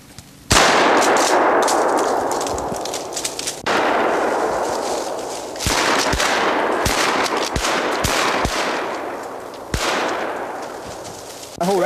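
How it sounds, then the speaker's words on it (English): Shotgun blasts fire up into a pine tree at a squirrel, several loud sharp reports spaced a few seconds apart, each followed by a long rattling wash of pellets and debris through the branches. "just blast one up in there, see what happens"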